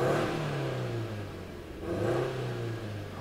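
A 2005 Subaru Legacy 2.0GT turbo engine revs up and settles, a steady mid-pitched drone rising and falling twice, close by with no talk.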